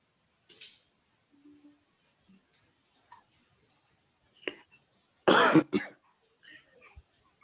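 A single loud, close cough bursts out after scattered faint clicks and small noises in an otherwise quiet room.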